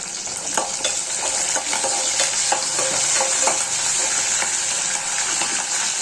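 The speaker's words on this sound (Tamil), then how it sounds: "சின்ன வெங்காயமும் பூண்டும் நல்லா வதங்கி பொரிஞ்சு வந்ததும் கருவேப்பிலை சேர்த்துட்டு" Shallots, garlic and curry leaves frying in a pan for a fenugreek leaf kulambu, a steady close sizzle with scattered stirring scrapes throughout and no voices.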